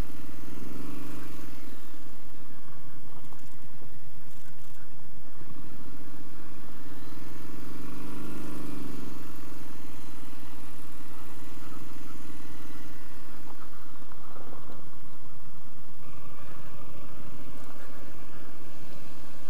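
A Triumph Street Scrambler motorcycle being ridden, its engine rising and falling in a steady drone with wind noise, heard continuously from close on the bike without any talk.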